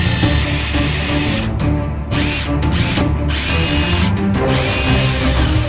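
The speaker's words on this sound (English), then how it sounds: "if I could just drill that little bead out on that rivet" A power drill bores out the bead of a rivet on a Sunrider soft top, a loud continuous whine with brief dips and restarts as the bit bites.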